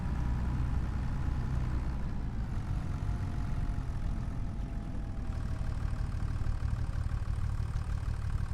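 A truck engine idles steadily in a logging simulation game, a continuous low rumbling drone with a faint mechanical hum that holds at even loudness throughout, close by and with no other sounds.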